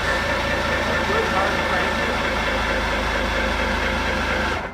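A heavy diesel engine cranks steadily on power from a Kold-Ban KSM jump starter, a loud, even, droning churn that runs without starting for nearly five seconds before cutting off.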